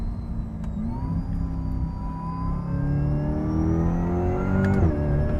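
Supercharged Corvette C8 E-Ray pulling hard in second gear, its engine note climbing steadily in pitch as revs rise over several seconds, loud and close from inside the car, with a brief shift blip near the end.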